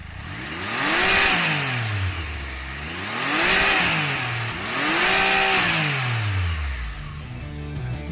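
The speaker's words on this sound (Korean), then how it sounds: "지금 들으신 배기음은 캐남 스파이더 F3S의 순정 상태의 배기음이고요" A Can-Am Spyder F3S three-wheeled motorcycle engine revs three times in rising and falling sweeps, its stock exhaust booming loud and close between idling stretches.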